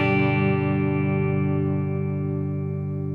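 An electric guitar chord rings through a DOD FX96 Echo FX analog delay pedal with its quality knob turned all the way down, sustaining and slowly fading with a faint wavering repeat texture and no talk.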